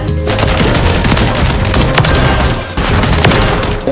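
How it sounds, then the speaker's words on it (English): Rapid, loud video game gunfire rattles in a dense burst of repeated blasts from a shotgun, with heavy booms layered over one another and a brief dip before the volley resumes. "What is that shotgun?"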